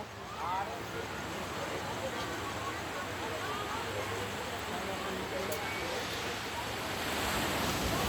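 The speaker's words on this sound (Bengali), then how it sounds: "ঢেউটা যখন আসে মনে হয় ঝড় আসছে" Ocean waves roll onto the shore in a continuous washing roar mixed with wind buffeting the microphone, swelling slightly toward the end, with no clear voices over it.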